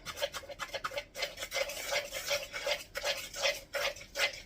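Crumble ingredients are stirred together in a bowl, giving a quiet, rhythmic scraping and rubbing that repeats in short strokes about twice a second, close up and with no talk.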